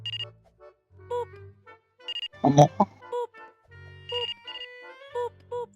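A phone ringtone plays in repeating electronic chiming phrases, fairly close, during a live multiplayer gaming session with friends, and a brief voice exclaims in the middle.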